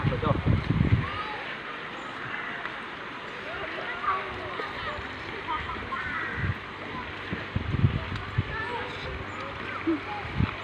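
Crowded Tat Ton waterfall in Chaiyaphum, with people splashing and playing in the water under a steady rush of falling water; voices chatter throughout and a few nearby splashes stand out.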